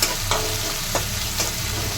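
Ginger garlic paste frying in hot oil for a chicken masala gravy, a steady close sizzle with a few stirring scrapes and no voices.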